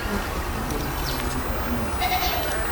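Sheep bleat close by in a noisy livestock setting, a few short wavering calls over a steady background hum, with voices faintly mixed in.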